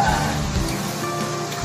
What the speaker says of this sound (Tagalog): Umuulan siya ngayon, hindi makikita masyado.